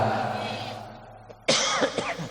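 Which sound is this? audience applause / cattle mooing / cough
cough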